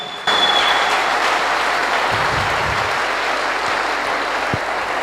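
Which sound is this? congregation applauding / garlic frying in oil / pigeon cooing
congregation applauding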